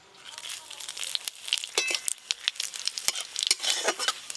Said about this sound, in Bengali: করার জন্য আমি ফোড়ন করে নেব তেজপাতা শুকনো লঙ্কা গোটা জিরে